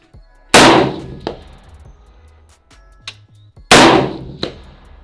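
Two loud rifle shots from a Spikes Tactical DMR at an outdoor range, each followed by a ringing decay, with faint metallic pings from a steel target and small clicks between them.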